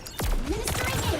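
A single sharp sniper shot in Overwatch 2, loud and close, with a whooshing tail that trails into a jumble of game effects.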